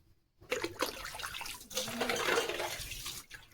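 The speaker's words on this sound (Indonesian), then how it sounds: "Ini tinggal kita bilas ya teman-teman. Ini airnya udah penuh." Water pours and splashes steadily from a full container during a rinse in a home in India, a loud close gushing that runs almost the whole time after a brief quiet start.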